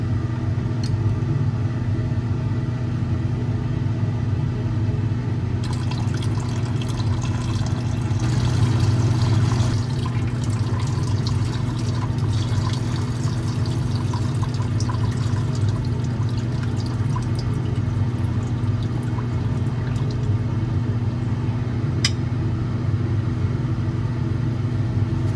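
Platinum-bearing waste solution poured into a stock pot during gold refining, a long steady pour with liquid splashing over a constant low rumble of equipment.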